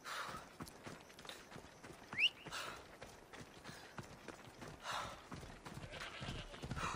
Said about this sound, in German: Du bist einfach ein Pferd.